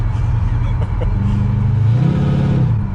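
A 1984 Chevrolet C10 pickup truck fitted with drop spindles and springs drives along, its engine a loud close rumble that rises in pitch as it accelerates, with brief speech over it.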